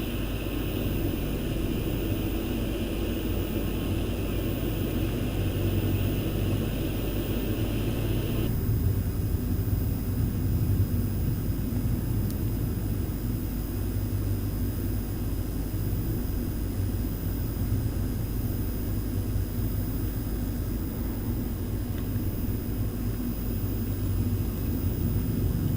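The engines of a PMDG 737-800 roar steadily on the tarmac in Microsoft Flight Simulator 2020, a loud, continuous broadband rumble. A high whine is present early on, and the sound holds unchanged for the whole stretch.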